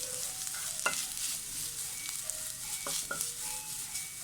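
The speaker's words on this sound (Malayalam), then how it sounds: "തേങ്ങ അതിൻ്റെ കൂടെ കുറച്ച് കറിവേപ്പില കേട്ടോ അത് ഇതിൻ്റെ കൂടെ ഇട്ട് കൊടുക്കുക നന്നായി ഒന്ന് മിക്സ് ചെയ്യുക" Grated coconut with garlic and curry leaves frying for a Malabar sadhya-style sambar, a steady close sizzle with a few scraping stirs of a spoon across the pan.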